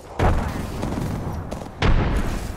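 Frag grenades go off in the Apex Legends battle game as two loud, close, booming blasts about a second and a half apart, each followed by a rumbling tail.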